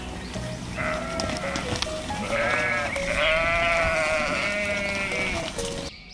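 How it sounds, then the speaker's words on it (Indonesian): A sheep bleats several times in quick wavering calls, close and clear, over a faint noisy background with no talk. "domba."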